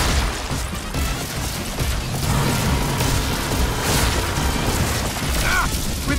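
Loud, dense Skylanders Imaginators game audio with repeated booming cannon blasts and crashes layered over a constant roar, plus faint voices in the mix.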